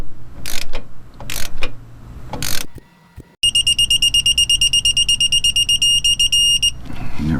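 Tightening a 14 mm banjo bolt on a replacement rear brake caliper of a 2001 Ford F-150 with a ratchet or torque wrench: a few sharp metallic clicks, then a fast, steady run of bright ratcheting clicks, close and loud.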